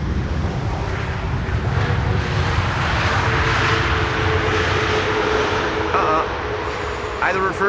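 A Delta Airlines airliner arriving from Salt Lake City at Amsterdam Schiphol's Polderbaan runway, engines in idle reverse thrust, makes a loud steady broadband roar that holds throughout, with a brief voice near the end.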